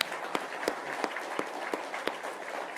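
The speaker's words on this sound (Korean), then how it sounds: "우리 82세 1세 넘으신 어르신들 위해서 박수 한번 할까요?" A church congregation at a Sunday service claps in a steady, evenly spaced rhythm, a roomful of hands filling the hall with no talk over it.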